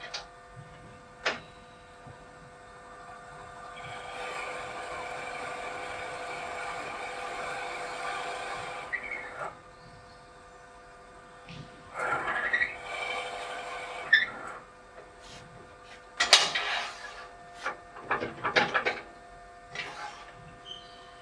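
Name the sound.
wood lathe running at slowed speed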